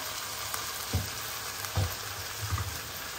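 Ridge gourd frying and softening in a pan for chutney, a steady low sizzle with a few soft stirring scrapes, close and fairly quiet, no voices.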